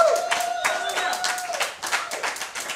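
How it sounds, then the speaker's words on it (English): Dense clapping from a crowd, steady and fairly close, with a sustained tone and some voices mixed underneath. "Can we give a round of applause for the Live in Portland team?"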